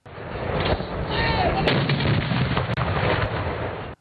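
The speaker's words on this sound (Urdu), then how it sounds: "دن کا آغاز لاہور گیریزن میں 21 توپوں کی سلامی سے کیا گیا۔" Booming 21-gun artillery salute at Lahore Garrison for Eid Milad un-Nabi, heard as a dense, continuous roar of cannon blasts and echoing rumble, loud throughout.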